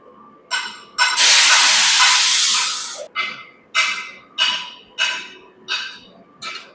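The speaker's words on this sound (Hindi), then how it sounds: "ये ग्राइंडर है, ये चप्पल को फिनिशिंग करने के काम आता है" A grinder finishing slippers in a footwear factory gives one long, loud rasping hiss, then a run of short, sharp grinding bursts repeating in quick rhythm.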